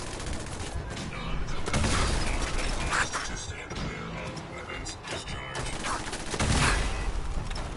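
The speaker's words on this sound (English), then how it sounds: "I'm using a rocket launcher and I missed" Video game combat with a rocket launcher and gunfire in power armor: dense bursts of shots and blasts crowd the clip, loud and continuous with brief lulls, mixed with mechanical clatter.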